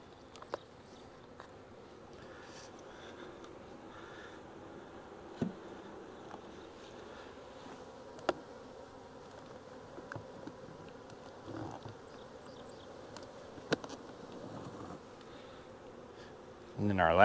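Honeybees buzz steadily around an open hive while Carniolan colonies from nucs are moved into full-size equipment, a low continuous drone with occasional faint clicks and knocks from frames.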